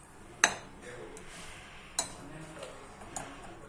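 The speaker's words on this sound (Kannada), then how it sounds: "ಸೌಟಿನಲ್ಲಿ ಮಿಕ್ಸ್ ಮಾಡಬೇಕು. ನಾನು ಸೌಟನ್ನು ಯೂಸ್ ಮಾಡ್ತಾ ಇದ್ದೀನಿ." A ladle clinks against a pot while ramen is mixed, three sharp metallic taps spread over a few seconds with quiet stirring and faint background noise between them.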